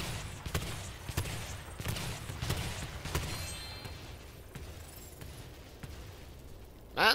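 Cannons fire in the Spyro Year of the Dragon video game, a series of sharp booming blasts at roughly even intervals, loud at first and then softer, with a brief noisy burst at the very end.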